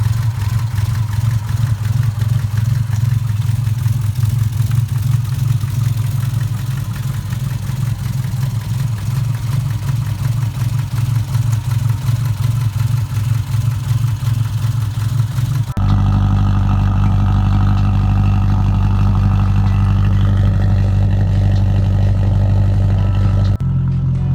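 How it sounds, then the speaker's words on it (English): A Subaru WRX boxer engine runs loud and close, a deep steady throb that shifts in pitch partway through as the revs change, with no voices over it. "to give you guys just a small understanding of how loud this car is"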